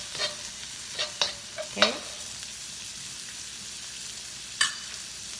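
Jalapeno stir-fried for salt and pepper prawns, with a soft steady sizzle beneath several sharp scraping stirs of a utensil against the pan; a voice briefly speaks.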